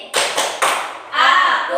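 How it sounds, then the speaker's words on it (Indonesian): Schoolchildren in a classroom do a rhythmic concentration clap: three sharp, loud group claps spaced evenly, then a longer burst of voices chanting together. "Tepuk konsentrasi."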